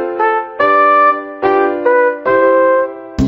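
Trumpet from a Mickey Mouse Clubhouse musical-maze video game plays a short bright melody of about five sustained notes, loud and alone, ending with a brief click.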